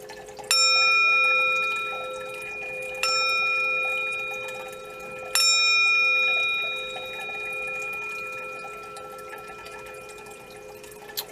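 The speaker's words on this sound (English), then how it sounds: "I'm going to chime it 3 times for the mind" A chime is struck three times during a tarot love reading. Each strike rings out clearly with a bright, lingering metallic tone that slowly fades before the next, and there is no talking.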